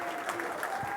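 Audience applause for a volunteer called up at a magic show, a continuous dense patter of clapping filling the room, with faint voices mixed in.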